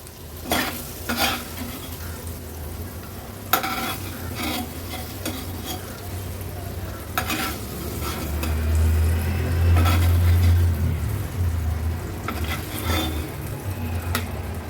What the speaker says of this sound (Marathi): आणखीन अर्ध्या मिनिटासाठी फक्त मीडियम फ्लेमवर मागची बाजू पण फ्राय करून घेऊया।